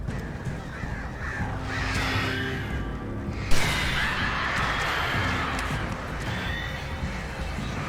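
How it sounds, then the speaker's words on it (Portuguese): Crows caw through the dark, unlit outdoor ambience of the video game Alan Wake Remastered, several calls layered over a steady rumbling background at moderate distance, with a sharper burst midway. "Já começa com os passarinhos."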